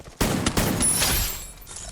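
A quick, loud volley of gunfire from Free Fire, a few rapid cracks running together and then fading off within about two seconds.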